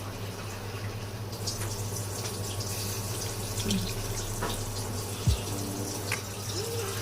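Water runs in a continuous steady stream into a cooking pot, heard close and fairly even over a low hum, with a faint clink near the end and no talking.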